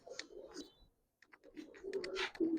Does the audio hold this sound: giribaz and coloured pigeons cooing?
yes